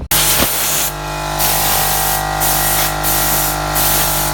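A spray gun applies rust-protection coating to a bus, giving a loud, steady hiss that runs almost nonstop, with brief surges in intensity as the trigger is worked.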